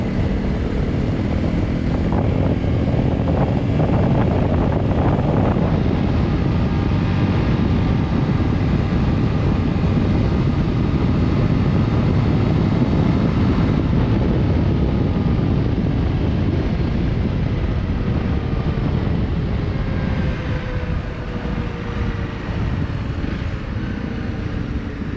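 Honda CRF 300 Rally motorcycle held at top speed on an open road, a steady loud engine drone buried under heavy, constant wind rush that barely changes across the run.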